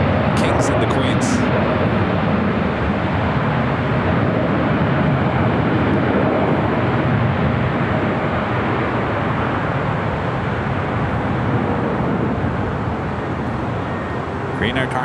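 Air cargo Boeing 777 freighter taxiing at LAX airport, a continuous broad distant jet engine roar mixed with airport ambience, with a person talking over it throughout.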